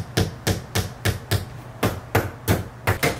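Nails being hammered during IKEA Malm six-drawer dresser assembly: about ten sharp, evenly spaced metallic knocks in a steady rhythm, close and moderately loud with no talking.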